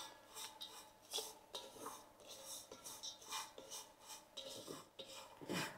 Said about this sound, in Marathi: आता आपल्याला शेवई आणि रवा पूर्ण गॅस कमी करून ना थोडेसे असे भाजून घ्यायचे